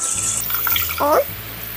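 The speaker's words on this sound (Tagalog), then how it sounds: "Tapos, lagyan natin ng panibagong tubig para maibabad na natin." Tap water runs into a container of rice set for soaking, a steady splashing rush with a brief gurgling pour in the middle, close to the mic.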